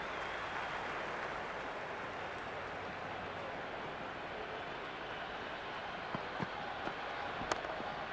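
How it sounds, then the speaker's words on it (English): In a cricket video game match, a stadium crowd roars in a dense, continuous wash of cheering noise, steady and loud, with a few faint clicks near the end. "The crowd is electric right now."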